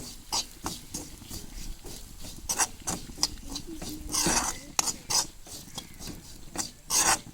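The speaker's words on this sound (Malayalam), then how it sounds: "തേങ്ങ ഒന്നുകൂടി നല്ല ബ്രൗൺ കളറാവുന്ന വരെ ഒന്നുകൂടി ഇളക്കി കൊടുക്കാം" Grated coconut browning in a pan for mathanga erisserry, stirred with repeated dry rasping scrapes in an uneven rhythm, close and moderately loud with no voices.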